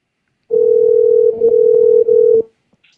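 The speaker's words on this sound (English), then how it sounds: "Hopefully I dialed the right number." A steady telephone dial tone drones loud and alone for about two seconds, with two brief breaks, placed while calling a guest on a live dirt-track racing show, then cuts off into silence.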